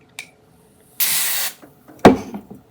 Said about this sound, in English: this is called Tresemme Keratin Smooth Weightless Antifreeze Finishing Spray. So you put this on this part of the comb